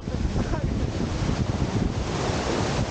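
Ocean waves crash and wash continuously at San Juan, La Union, a dense roaring surf mixed with heavy wind buffeting on the microphone.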